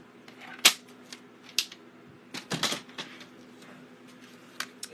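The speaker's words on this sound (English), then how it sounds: "I'm just going to line those corners up into the cutting track and cut through those layers" A paper trimmer cuts through stacked cardstock layers with a few sharp, separate snaps and slicing clicks, close and fairly crisp, in a quiet room.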